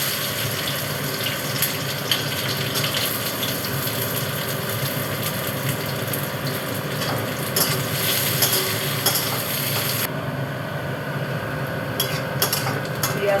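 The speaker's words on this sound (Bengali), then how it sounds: "পেঁয়াজটা একটু ভাজা ভাজা করে নিলাম" Chopped onion sizzles steadily in hot white oil and a spoon of ghee in a pan, a continuous frying hiss with occasional stirring scrapes, close and fairly loud throughout, no voices.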